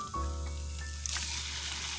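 Shrimp hitting a hot frying pan for homemade shrimp fried rice, a sudden loud sizzle that starts after a brief pause and hisses steadily, with a low hum beneath and a light clink of stirring.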